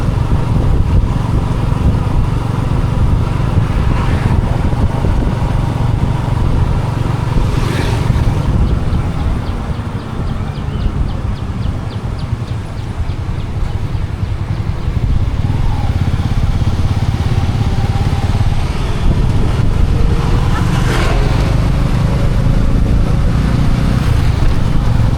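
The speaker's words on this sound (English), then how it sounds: "So there's quite a bit of traffic, the city's coming to life now." Tuk tuk riding through busy city traffic, its small engine droning loudly and continuously close by, with passing vehicles, a couple of faint horn toots and road noise around it.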